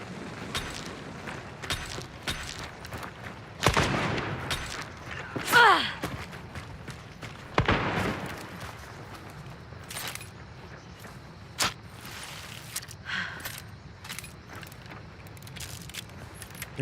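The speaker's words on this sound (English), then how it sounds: "There's somebody else shooting at me, bro." Gunshots ring out in an online hunting shooter, a few loud scattered cracks and booms spread irregularly across the stretch with quieter distant shots between, alongside faint breathing and movement.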